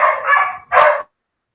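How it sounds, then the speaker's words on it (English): Two loud, close dog barks in quick succession, the second sharper, then silence. "Somebody's dogs were noisy."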